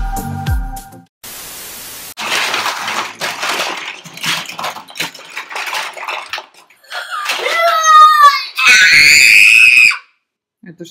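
A child screams loudly and shrilly near the end, after a stretch of clattering, rustling household noise and muffled activity.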